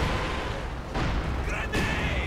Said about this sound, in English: And we have a Katusha barrage going down.